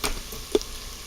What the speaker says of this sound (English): I am sauteing onions and garlic in olive oil